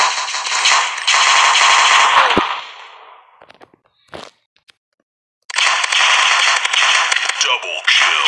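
Rapid automatic gunfire in a shooter video game, loud sustained bursts near the start and end with a sharp single crack and brief quiet between.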